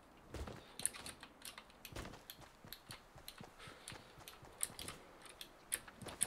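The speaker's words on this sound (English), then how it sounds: "Sorry for the clicky keyboard." A clicky computer keyboard being typed on during a Fortnite session, with quick irregular bursts of sharp key clicks and occasional louder taps, close and alone.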